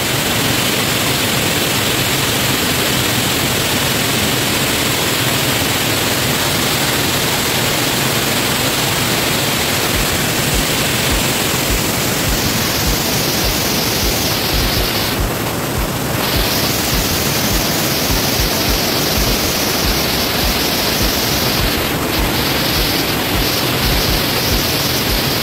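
Mimbalot Falls in Buruun, Iligan City, roars with steady rushing water, a loud, dense and unbroken wash that fills the whole clip with no speech over it.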